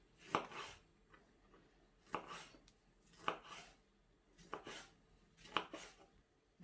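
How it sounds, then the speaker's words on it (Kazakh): A knife chopping tomatoes for a salad on a board, about six quiet, evenly spaced strokes roughly a second apart, close and alone. "Помидор турады."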